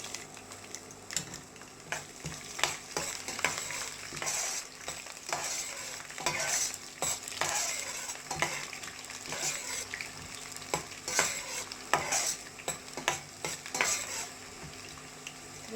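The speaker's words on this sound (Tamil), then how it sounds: "இப்போ பூண்டு போடலாம்." Garlic frying in a pan for a Tamil vanjaram fish curry, a continuous close sizzle broken by frequent metallic scrapes and taps of a spatula stirring, with no talking.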